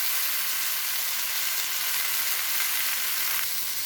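Okra sautéing in a pan with mustard seeds, chili, tomato, turmeric and salt for a mustard-paste fish curry, giving a loud, steady, even sizzle throughout with no talking.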